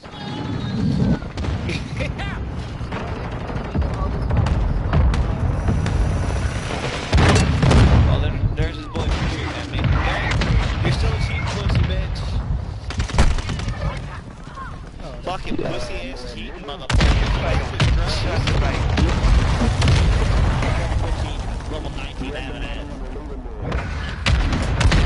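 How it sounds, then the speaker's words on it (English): Mortar strike explosions and gunfire rumble through a Modern Warfare 2 multiplayer match, dense booms and shots filling the whole stretch at close range, with players talking over the battle. "Hostile mortar strike in the area."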